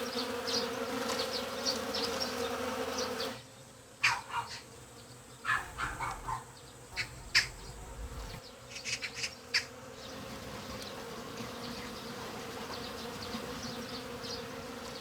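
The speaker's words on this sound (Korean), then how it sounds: "지금 막 벌들이 벌떼같이 지금 날아든 거야" Dense, steady buzzing hum of many honeybees swarming over flowering ivy, a continuous drone close by, with a dog barking a few times partway through.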